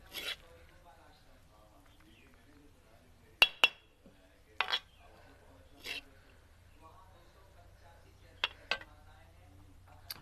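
Cooked dal and onion scooped from a frying pan into a bowl, heard as a few sharp, sparse clinks and scrapes of a spoon against metal and dishware in a quiet kitchen.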